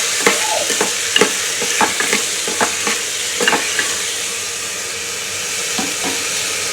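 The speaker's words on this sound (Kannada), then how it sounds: "ಸ್ವಲ್ಪ ಹೊತ್ತು ಆಯಿಲಲ್ಲಿ ಫ್ರೈ ಮಾಡ್ಕೊಳ್ಳೋಣ ಇದನ್ನು" Field beans (avarekalu) fry in oil in a pan, a steady loud sizzle with repeated sharp scraping stirs of a spoon in the first half, then continuous sizzling alone.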